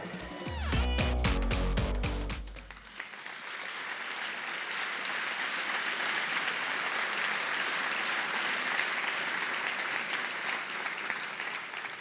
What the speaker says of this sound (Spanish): No dejen de aplaudir, ¿eh?